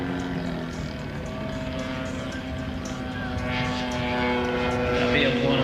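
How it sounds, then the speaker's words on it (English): A Cessna light aircraft flies over at the Elvington airshow, its propeller engine droning steadily and swelling slightly as it passes, fairly distant and continuous under faint background noise. "So now, I'd say that's definitely a Cessna."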